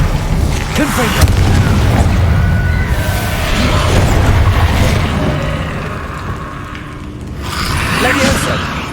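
Confringo spell explosions from the video game Hogwarts Legacy, deep booming blasts rolling over dense, continuous game noise, with a brief lull before another burst near the end.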